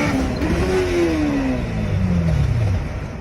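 A car engine screams as it over-revs from about 9,000 to 13,000 rpm toward catastrophic failure, one loud continuous howl whose pitch climbs and then sags as the motor gives out.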